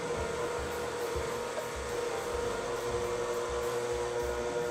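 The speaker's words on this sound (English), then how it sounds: "you can probably hear, the mixer is starting to really strain" A stand mixer's electric motor strains while mixing biscuit dough with buttermilk, whirring continuously at a fairly constant pitch with a slight labored pulsing underneath, close and moderately loud, no talking.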